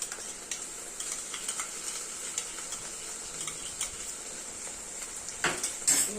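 Ground mustard and green chili spice paste, meant for a bhola fish and chicken kosha dish, sizzles in a pan as it is stirred and sautéed, with a soft hiss, occasional utensil clinks and a louder scrape near the end.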